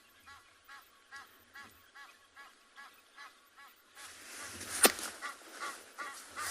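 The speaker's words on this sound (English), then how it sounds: "Egyptian geese are getting braver" Egyptian geese honking in a steady series, moderately close, followed by a burst of louder, noisier calling and flapping near the end.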